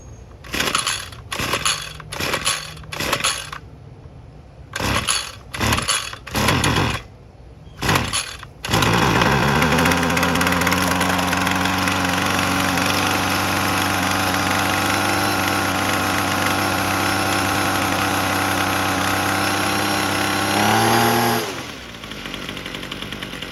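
A small two-stroke Ryobi gas string trimmer sputters through several short failed pulls, then catches and runs at a steady rough idle before revving up and cutting out.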